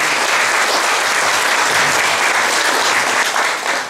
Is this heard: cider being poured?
no